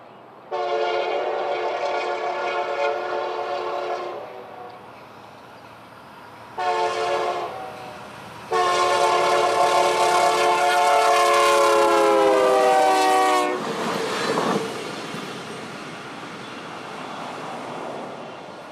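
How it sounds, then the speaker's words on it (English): Union Pacific westbound Operation Lifesaver special train sounds its horn in long, loud blasts on a triple-track mainline at Odessa, with a pause between them, then rumbles past as the horn fades. "At Odessa, we see this westbound Operation Lifesaver special on its way"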